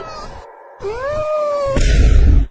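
A cat lets out a long, drawn-out meow with rising pitch, loud and close, followed by a brief noisy rustle before cutting off.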